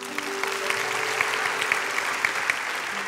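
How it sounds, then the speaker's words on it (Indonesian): A church congregation claps, a steady, moderately loud run of applause with rhythmic accents in the claps, over a low sustained hum. "kasih tepuk tangan untuk Roh Kudus"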